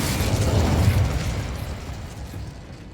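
An Incendio fire spell cast in Hogwarts Legacy, with a loud whooshing burst of flame that roars for about a second and then fades away.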